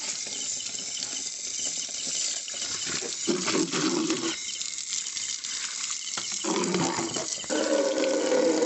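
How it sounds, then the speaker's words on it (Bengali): Dishes are washed at night under running water, with a close, continuous patter and splashing of water and occasional clinks as items are rinsed, without any talk. "আমি এই যে বাসন ধুতে এসেছি।"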